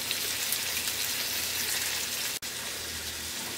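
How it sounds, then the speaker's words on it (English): Shrimp sauté in a hot pan, giving a dense, steady sizzle and crackle close up, broken only by one brief click partway through. "Gonna saute these until they go nice and pink, get cooked through,"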